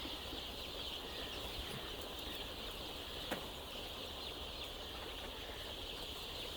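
Chicks at a layer poultry farm crowd in to feed, heard as a steady, faint wash of chirping and rustling over a constant hum, with one brief sharper sound partway through and no talking.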